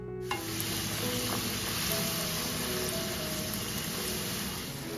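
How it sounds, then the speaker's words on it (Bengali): Steady close sizzling of khichuri spices frying with tomato and ginger paste in a pan, a continuous crackling hiss with no talk over it. "এদিকে খিচুড়ির মশলা কষছে, টমেটো আর আদা পেস্ট"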